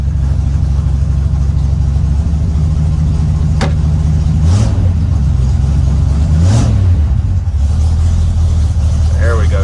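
An old car engine idles down unevenly, missing on a cylinder, with a loud steady low rumble throughout and a couple of brief blips of revving; a voice is heard over it.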